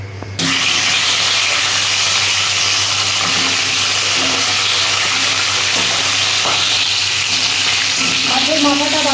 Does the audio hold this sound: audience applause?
no